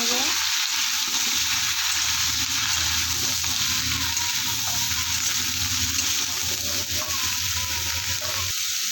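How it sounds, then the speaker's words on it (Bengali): Vegetables stir-fry with ginger garlic paste in a pan, giving a loud, unbroken hiss close by. Low rumbling and the soft movement of stirring run underneath, with no clear voices. "এখানে আমি সবজিগুলো দিয়ে দেবো, দিয়ে ভালোভাবে নেড়ে নেব।"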